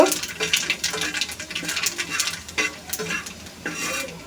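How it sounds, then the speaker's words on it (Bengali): Dried red chili and whole nigella seeds fry in cooking oil in a pan, giving a steady crackling sizzle with scattered sharp pops and occasional utensil clinks, close and moderately loud with no talking. "দিয়ে দিচ্ছি একটা শুকনো মরিচ আর গোটা কালি জিরে একটু ভেজে নেব"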